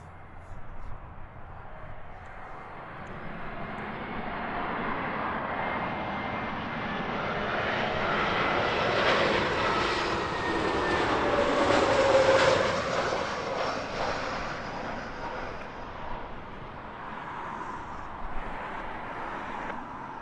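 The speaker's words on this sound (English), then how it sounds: "our next long haul arrival, British Airways 98. That one's inbound from Toronto on an A350 1000." A British Airways Airbus A350-1000 arriving from Toronto descends toward Heathrow, its jet roar swelling steadily to a peak around the middle and then easing off, continuous and fairly loud, with no one speaking.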